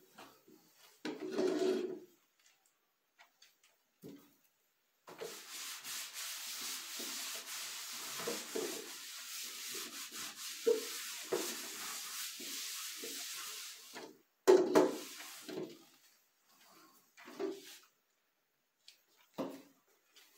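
Chairs being wiped down with a creamy multipurpose cleaner at home, heard as a long steady rubbing and scrubbing stretch with shorter wiping strokes before and after, close and fairly quiet, with no talking.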